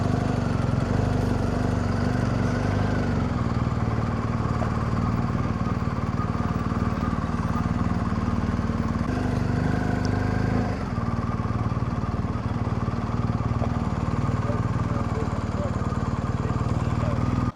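A ditch pump's engine drones continuously at close range, a low mechanical chug that never lets up, with faint voices now and then over the noise.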